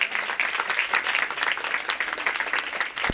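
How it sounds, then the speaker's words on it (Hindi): Children and guests at a school annual function applaud, with dense, steady clapping throughout at close range and no talking over it. "आपकी तालियों की आवाज आती रहना चाहिए"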